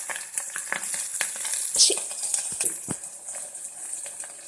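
Chopped onion and green chilli pieces sizzle in a pan of hot oil, with a steady fry broken by sharp clinks and scrapes of a spoon stirring against the metal.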